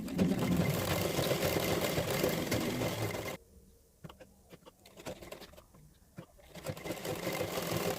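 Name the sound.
sewing machine stitching a blouse lining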